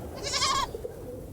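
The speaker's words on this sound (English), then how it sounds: "Kid," A baby goat (kid) on a farm lets out a single wavering bleat, fairly close and clear, lasting about half a second before quiet background.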